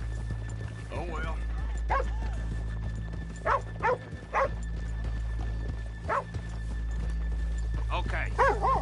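Horses in Red Dead Redemption 2 clop and snort in short bursts against a low steady background hum, fairly close and moderately loud.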